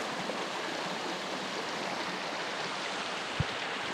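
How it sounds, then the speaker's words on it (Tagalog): A small waterfall spills over rocks on the river in Barangay Tua, Magallanes, Cavite, a dense, loud, unbroken roar of rushing water with one brief low thump. "May mini falls dito."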